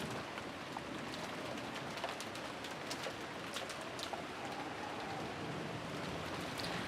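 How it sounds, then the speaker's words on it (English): Steady rain ambience from the visual novel game Umineko When They Cry, a continuous soft hiss of rainfall with scattered drops, even and moderately quiet throughout with no talking. "disappeared beneath the sound of the rain"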